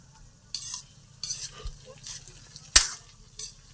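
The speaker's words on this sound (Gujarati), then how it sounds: "તો આપણે ધીમા તાપે આને હવે શેકાવા દઈશું અને હલાવતું રહેવાનું છે" Undhiyu vegetables are stirred while roasting on low heat, with several separate scraping strokes of a spoon in the pot and one sharp metallic clink. A soft, low sizzle runs underneath.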